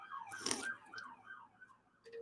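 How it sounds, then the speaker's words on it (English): Wailing emergency sirens pass by outdoors, their tones sweeping up and down at moderate distance, with a short burst of other noise early on and a sharp clatter at the very end. "Letting these sirens pass by."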